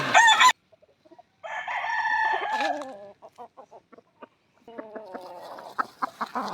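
A rooster crows loudly and close by in a long drawn-out call, followed by a string of short clucks and chirps from fowl.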